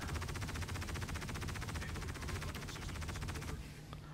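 Rapid automatic ship guns on an Aegis Eclipse in the Star Citizen video game fire a loud, steady stream of tightly spaced shots for several seconds, then cut off abruptly near the end.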